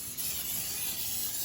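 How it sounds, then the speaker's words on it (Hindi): Vegetable oil cooking spray hisses onto a grill in one steady, fairly loud burst lasting over a second, close to the microphone. "ग्रिल के ऊपर स्प्रे करूँगी।"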